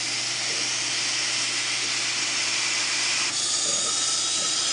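Air hisses steadily into a Corvette tire seated on a tire changing machine, a constant close broadband rush with a slight shift in tone partway through and no talking.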